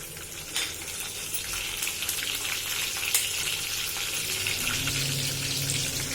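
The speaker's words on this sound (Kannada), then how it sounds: "Keep a thick bottom pan, ದಪ್ಪ ತಳ ಬಾಣಲೆ ಇಟ್ಕೊಳ್ಳಿ. ಗ್ರೀನ್ ಚಿಲ್ಲೀಸ್, ಹಸಿರು ಮೆಣಸಿನಕಾಯಿ" Green chillies sizzle and crackle in hot oil in a thick-bottomed pan, a close, steady frying hiss with occasional sharper pops, no talking.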